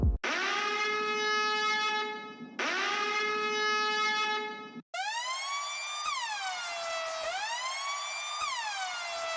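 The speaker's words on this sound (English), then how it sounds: "these cool siren sounds just to add some more energy to the track" Siren samples layered in a boom bap rap beat in FL Studio: two long rising-and-falling electronic wails, followed by a brighter, faster sweeping siren tone, loud and alone without drums or voices.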